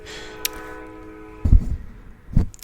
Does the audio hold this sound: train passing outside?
yes